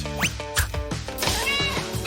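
A cat meows repeatedly at close range, with short rising and falling cries overlapping other nearby noise.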